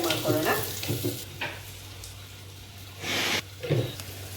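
Three large onions, thinly sliced, fry softly in a pan for fenugreek-leaf chicken, with a quiet sizzle broken by a few short stirring rustles and scrapes.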